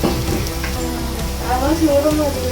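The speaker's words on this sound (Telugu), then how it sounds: "ఇది ఇలా మనం బాగా ఆనియన్స్ బ్రౌన్ అయ్యే వరకు మనం ఫ్రై చేసుకోవాలి." Sliced onions sizzle and fry in a pan for a clove bean curry, a continuous crackling hiss with occasional stirring scrapes, close and steady, while a voice speaks lightly over it.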